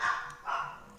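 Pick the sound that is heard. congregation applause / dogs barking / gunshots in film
dogs barking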